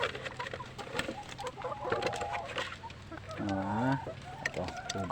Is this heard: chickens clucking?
yes